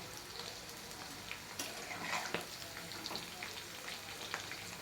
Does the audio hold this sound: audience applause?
no